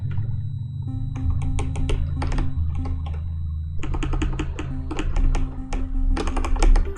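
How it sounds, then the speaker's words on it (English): Computer keyboard typing in the video game DashBored, steady clusters of close key clicks coming in quick bursts with brief pauses, over a soft background hum and no talking. "You have to type encounter on the computer."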